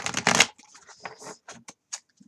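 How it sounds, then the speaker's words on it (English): Tarot cards being shuffled by hand, heard as close, crisp riffling bursts and soft papery flicks that thin out into a few scattered taps, with no talking. "I'm still shuffling these apparently,"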